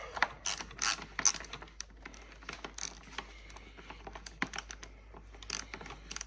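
A wrench ratchets and clicks on bolts of a 1999 Harley-Davidson Electra Glide during a radio install, giving quiet, irregular bursts of metallic ticking and clinking close by with no talk.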